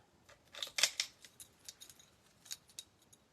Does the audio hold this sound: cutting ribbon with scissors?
yes